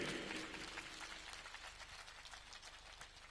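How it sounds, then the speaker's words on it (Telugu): Faint, distant applause from an audience at a public gathering, honoring a district medical and health officer, fading out over a few seconds. "మనందరం గట్టిగా క్లాప్స్ కొట్టండి ఆయనకి, డిఎంహెచ్ఓ గారికి"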